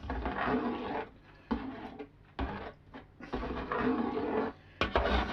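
A spoon stirs thick zucchini chili ketchup after vinegar is added to a pot, giving several rough scraping and sloshing strokes separated by short pauses, close and moderately loud.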